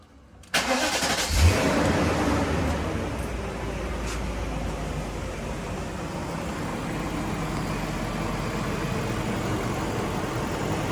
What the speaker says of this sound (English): I'll start the car up and have a listen.